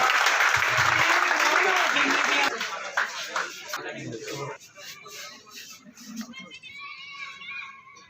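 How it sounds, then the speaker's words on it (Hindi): A crowd at a sports closing ceremony and medal presentation gives loud applause, mixed with children's voices; the clapping is dense for a couple of seconds, then thins and gives way to chatter and a whistle-like tone. "जोरदार तालियों से स्वागत करें"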